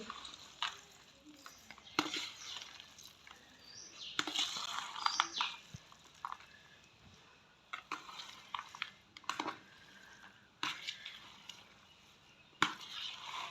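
Noodles with egg, carrot and leeks being stirred in a pan, giving intermittent scraping and clattering strokes at moderate loudness, with faint bird calls in the background.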